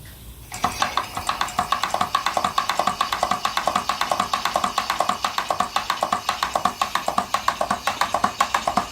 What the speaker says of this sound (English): So I'm going to turn on the steam.